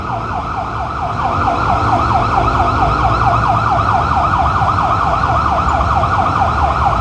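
An ambulance siren wails steadily in a rapid rising-and-falling pattern, loud and close, over a low rumble of road traffic.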